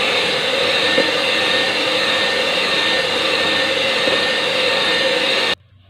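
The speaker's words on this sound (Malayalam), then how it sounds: "എന്നിട്ട് നമുക്ക് ഒന്ന് ചെറുതായിട്ടൊന്ന് ബീറ്റ് ചെയ്തെടുക്കാം." An electric beater whips eggs with vanilla essence for a no-oven chocolate cake batter. It gives a loud, steady whirring drone that cuts off abruptly near the end.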